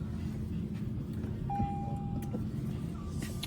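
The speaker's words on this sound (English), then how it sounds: "the mirrors will fold in while you're driving or while the car's engaged and running" Side mirrors on a 200-series Land Cruiser fold electrically, a thin motor whine running about a second over a steady idling engine hum, with a second brief whir near the end.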